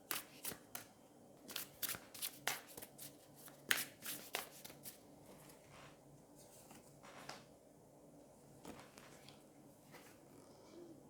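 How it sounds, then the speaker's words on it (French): Tarot cards being shuffled and drawn by hand in a quiet room, a rapid run of close, crisp riffling flutters that thins into sparse soft card slaps and slides, with no talking. "On va aller tirer 2 autres cartes, justement, pour essayer de creuser un peu plus."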